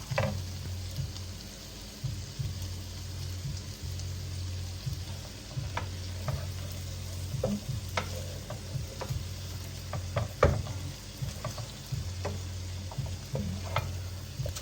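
Cauliflower sabzi with garam masala and chopped coriander is stirred in a pan, giving a low sizzle with repeated scraping and clinking strokes of a spoon, close and moderately loud with no talk.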